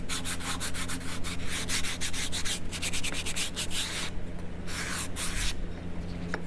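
Sandpaper rubs along the wooden edges of a mini picnic table in quick, repeated scratchy strokes, close and fairly loud, with brief pauses between bursts of swipes.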